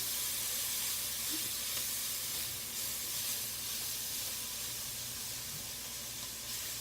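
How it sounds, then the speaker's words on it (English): Garlic cooking briefly in a pan while making beef stroganoff gives a steady, soft sizzling hiss that runs unbroken from start to finish, fairly quiet and close, with no voices over it. "So now I'm going to add a little garlic, and I'm only going to cook that just for a little bit"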